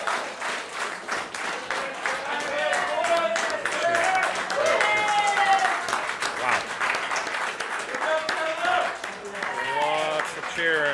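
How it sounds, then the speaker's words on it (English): An audience at a 9-ball pool tournament in Spokane breaks into applause, clapping and whoops after a match ends, a sustained close wash of hand claps with excited voices and commentators talking over it. "Lots of cheering in the background."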